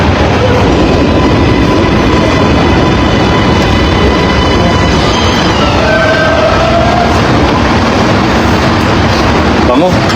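Elevated MRT-like train passing by near a street stall, a loud continuous rumbling roar with high screeching tones, steady throughout under voices talking.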